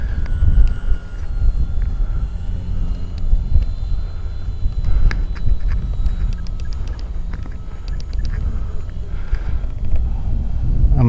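Dynam B-26 Marauder RC plane on a troubled maiden flight, a steady motor drone buried under heavy wind buffeting on the microphone, with faint clicks and a higher tonal whine drifting in and out.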